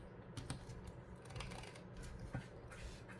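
Soft, quiet snips and clicks as paper edges are trimmed for a no-sew junk journal, a few irregular cuts close by against a faint room background.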